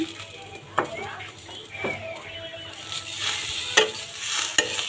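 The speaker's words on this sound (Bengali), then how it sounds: "সুন্দর করে নেড়ে চেড়ে ভেজে নেব" Flattened rice (chira) fries with a gentle sizzle with chopped coriander leaves while a metal spatula scrapes and clinks against the pan in irregular strokes, growing busier toward the end.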